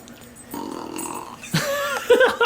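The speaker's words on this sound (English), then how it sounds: "There's the Burping Dog." A dog burps at close range, a short guttural belch followed by a second louder, drawn-out burp, with no speech over it.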